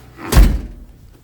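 A garage man door swings shut with a single heavy thud during a blizzard, close and loud, followed by a short fading rumble.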